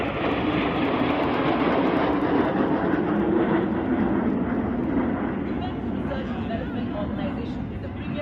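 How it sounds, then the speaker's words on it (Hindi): MiG-29 air superiority fighter jets roar overhead during a Republic Day parade in New Delhi, a broad, continuous jet rumble that stays loud throughout and partly masks a voice commentating. "you can see up in the air, MiG-29 air superiority fighters"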